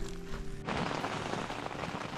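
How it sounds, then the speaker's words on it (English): Heavy pouring rain on a wilderness hike to a campsite near a fire lookout, a dense continuous hiss that swells suddenly partway through and then stays loud and steady with no voices. "It is still pouring rain."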